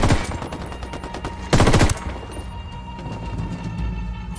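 Rebels training in the Ghost Recon Wildlands video game fire loud bursts of automatic gunfire, rapid cracks rattling throughout with one heavy, dense volley near the middle, and no talk over the shooting.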